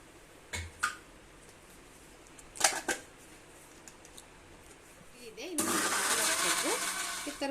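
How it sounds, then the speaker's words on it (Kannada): A mixer grinder blending Dark Fantasy biscuits with cream. A few scattered clicks and knocks come first, then the grinder whirs on loudly and runs steadily for the last two seconds. "ಇದನ್ನು ಕ್ರೀಮ್ ಹಾಕಿ ಮಿಕ್ಸಿ ಮಾಡ್ತಿದ್ದೀನಿ ರೀ"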